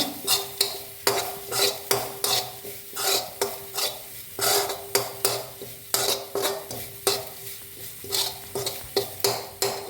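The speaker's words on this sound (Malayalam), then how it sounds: "ഇതൊന്ന് വറുത്തെടുക്കണം തേങ്ങ" A spatula scrapes and stirs grated coconut roasting in a dry pan in steady rhythmic strokes, with faint sizzling between them.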